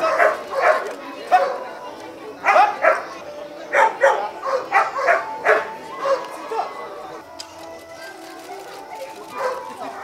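Police dogs bark in repeated sharp bursts during a training session, with several loud volleys in the first seven seconds and fainter yips afterward, while people talk in the background.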